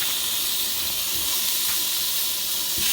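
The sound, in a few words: burgers sizzling on a grill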